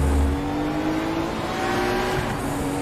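A Kremer Porsche race car engine in the RaceRoom racing game drones loudly and steadily, with a sustained engine tone, slight revving and a faint hint of tire noise throughout.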